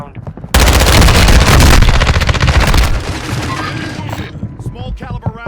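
Rapid bursts of small-caliber automatic gunfire from Call of Duty: Warzone on Ashika Island, with an MP5, loud and dense for several seconds before trailing off into scattered shots and game sounds.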